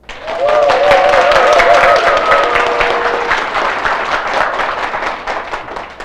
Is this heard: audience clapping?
yes